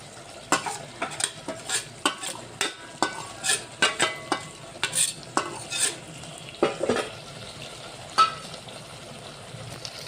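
Raw spiced brinjal curry with cumin powder, garam masala, mutton masala and salt being mixed by hand in a pot, a steady run of wet scraping and clinking strokes close up, with no voices.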